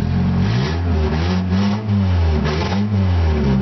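A 1992 Honda Accord with 315,000 miles idles in park without a catalytic converter, a loud, rough and throaty engine drone with slight rhythmic dips, steady and close with no talking.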